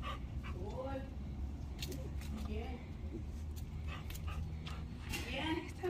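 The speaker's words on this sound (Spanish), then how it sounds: "Están los perritos." Young puppies whimper and yip in short high bursts close by, with someone talking over them.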